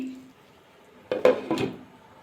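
A metal lid set onto a cooking pot of simmering mixed vegetable curry, a couple of close clanks and rattles after a quiet moment, with no talk.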